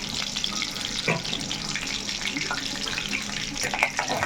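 Cumin seeds dropped into hot oil for a dried prawn and ridge gourd curry, a steady close hiss of frying with scattered small pops and crackles.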